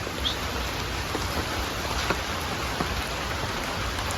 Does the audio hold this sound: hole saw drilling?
no